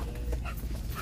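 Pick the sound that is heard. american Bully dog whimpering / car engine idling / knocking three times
american Bully dog whimpering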